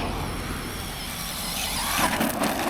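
A brushless RC car with big tires runs across grass, its electric motor giving a steady close-up whine that rises into a sharp squeal near the end, with no talking.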